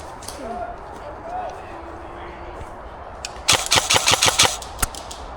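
An airsoft gun firing on an outdoor field, a quick burst of about eight sharp cracks followed by a lone shot, preceded by faint ambient noise and distant voices.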